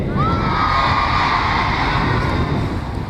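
A crowd of children at a school groundbreaking ceremony shouts and cheers at full volume in one sustained roar. A few shrill whoops rise above it.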